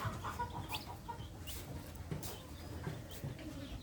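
A brood of hens clucks softly around freshly hatched chicks in a small coop, with short, scattered clucks and chirps over a quiet, faintly buzzing background.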